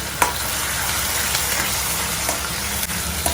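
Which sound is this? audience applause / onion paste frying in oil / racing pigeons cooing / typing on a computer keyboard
onion paste frying in oil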